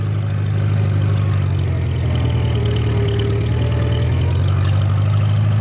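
A 1940-1947 Farmall BN tractor engine runs steadily and loudly up close, a deep continuous drone as it drives along a little faster.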